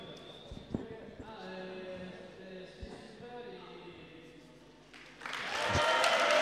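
At a breakdance and hip hop contest, an announcer's voice over the crowd gives way to a swelling burst of audience applause and cheering that rises loud and dense toward the end.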